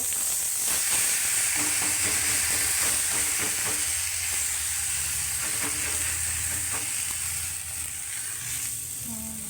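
Oil sizzles and fries steadily on a greased griddle as a thalipeeth cooks, a close, continuous crackle with brief stirring or scraping touches throughout and no talk.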